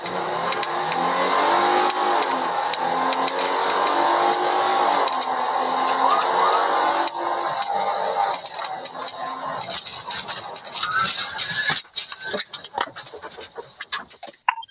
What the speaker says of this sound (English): Officer Dave speeds through this 25-mile-per-hour zone